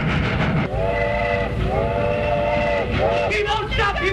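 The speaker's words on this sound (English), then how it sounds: "Stop that train." A train running in a 1929 comedy short, with a loud continuous rumble and rattle under repeated bursts of a steady whistle, close and dominant throughout.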